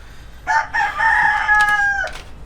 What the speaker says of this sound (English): I'm going to try to explain the wiring to you guys without these chickens interrupting us